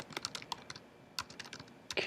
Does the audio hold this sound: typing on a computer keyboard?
yes